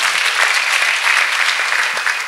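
A church congregation claps together in a steady, dense round of applause that fills the space evenly and continues without a break, loud and close, with no voices standing out.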